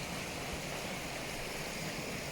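Steady outdoor water flow, like a stream or small waterfall in a wooded natural setting in winter, a continuous broadband rush held at even loudness throughout with no talking.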